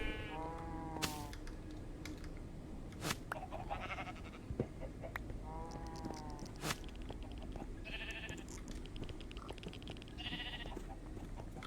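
Sheep bleat several times in a farm video game, short wavering calls spread across the scene alongside other livestock noises and faint clicking, with no talking.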